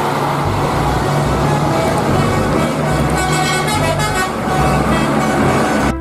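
A toy bus plays loud, steady electronic horn and engine sound effects continuously, a dense synthetic tune-like tone filling the whole stretch without pause.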